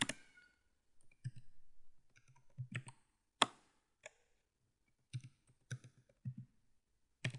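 Keys on a computer keyboard are typed in short, irregular bursts of crisp clicks, close and quiet, with brief pauses between them.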